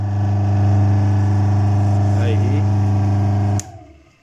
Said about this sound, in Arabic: ولاحظوا المحرك بده يقفز عن الطاولة